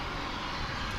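Engine noise from a UPS Boeing 757 cargo plane at Dallas/Fort Worth International Airport, a steady broadband roar, loud and unbroken for a brief moment.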